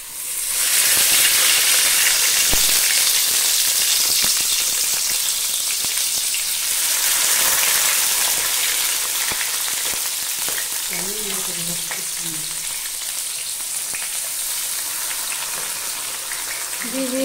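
Fish wrapped in bottle gourd leaves laid one by one into hot oil in a kadai for Bengali fish paturi, giving a loud, dense, rain-like sizzle that slowly eases, with a faint voice briefly in the background.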